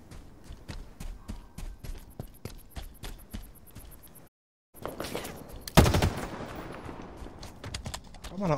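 Halo Infinite multiplayer gunfire: a rapid, steady stream of automatic shots, then a brief silent break before heavier, louder bursts and an explosive blast, all close and dense with no talking.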